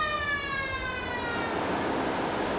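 A fire alarm siren in a ship's engine room sounds alone as a steady, loud electronic tone, slowly falling in pitch over a constant mechanical background hum.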